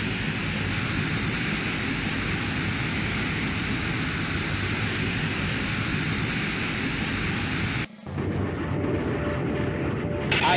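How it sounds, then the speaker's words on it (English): Steady, loud roar of aircraft engines during a carrier launch in the naval game Jane's Fleet Command, holding constant for about eight seconds before a brief cut and resuming. "Green deck, get those aircraft airborne."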